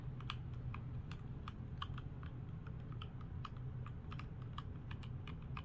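Quiet, light keystrokes on a mechanical keyboard tap out a steady run of soft clicks over a low background hum, with no heavy bottoming-out.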